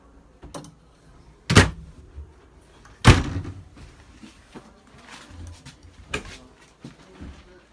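Wardrobe doors along the bedroom wall of a 2018 Georgetown 378TS Class A motorhome open and shut nearby with three sharp slams and scattered softer clicks and thumps between them.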